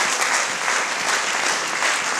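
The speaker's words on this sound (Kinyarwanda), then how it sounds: "mukomere Imana amashyi." Sustained applause from a church congregation fills the whole stretch, dense and steady clapping at a worship service, with no talk over it.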